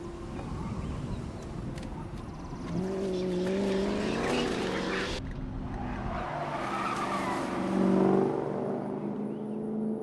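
A car drives through New York in the film I Am Legend, heavy engine roar and tire squeals over dense rumbling noise, with revving swells and an abrupt cut midway, loud and close throughout.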